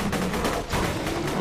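Rifle fire in Borderlands 2, a dense, continuous stream of loud game gunfire with rapid overlapping shots running through the whole short stretch, no talking.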